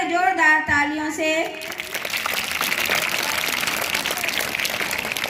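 At a school Children's Day annual function, a short stretch of amplified voice or music gives way to loud, sustained applause from a large audience, a dense wash of clapping that continues to the end.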